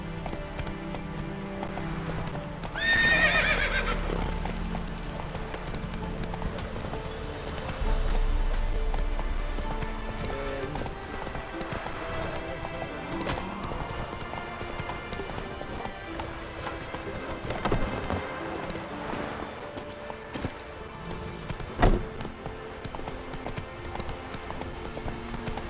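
A horse in The Witcher 3 game gallops steadily, its rhythmic hoof clip-clop running the whole way, with a whinny near the start, a couple of louder thumps later and a faint musical backdrop beneath.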